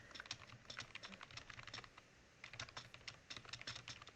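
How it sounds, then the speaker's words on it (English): Soft keystrokes on a computer keyboard rattle in quick uneven bursts close by, with a brief pause midway before the typing resumes in a quiet, cozy room. "You hear the typing."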